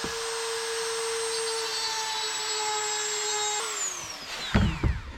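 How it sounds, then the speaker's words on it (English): A router plunge-cuts an aperture in a boat cabinet, a loud, steady high-pitched motor whine with a slight cutting roughness. Near the end the motor winds down with a falling pitch, followed by a few knocks. "this will start with a little bit of a plunge route and then turn it into the box"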